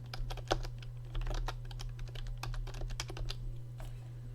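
Quick clicking keystrokes on a computer keyboard as a folder name is typed, a steady close patter of taps over a constant low electrical hum, with no speech.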